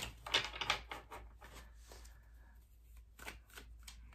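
A deck of tarot cards being shuffled at close range, with quick riffling bursts and soft flicks and taps, fairly quiet and with no talking.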